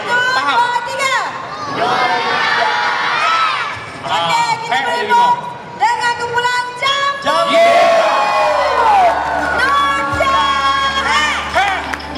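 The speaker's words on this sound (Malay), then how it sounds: "kita minta anak semua ramai-ramai jerit" A comedy-show audience of children in Malaysia shouts together in loud, sustained bursts, several swells of massed young voices across the stretch, with an adult voice speaking in between.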